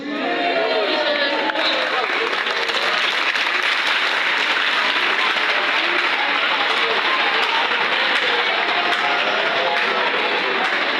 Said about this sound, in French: Vous venez d'applaudir avec force et zéro corruption au collège Saint-François.